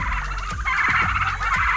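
Turkeys on a farm give a rapid burst of loud gobbling calls, close and overlapping for under two seconds with no talk.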